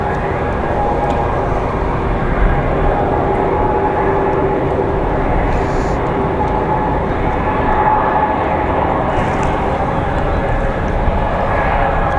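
A JetBlue Airbus A320 airliner at Raleigh-Durham International Airport produces a loud, steady jet engine roar that holds even and unbroken throughout, with no voices.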